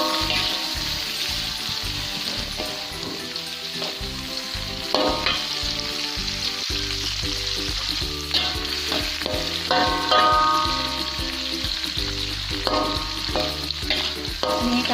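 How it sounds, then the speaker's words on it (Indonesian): Washed rice sizzling in bubbling hot oil for Sundanese nasi liwet, turned over repeatedly so it browns evenly without burning; a constant loud crackle with scraping and clinking of the spatula, close and without talk. "Kita goreng sampai kering ya teman-teman ya."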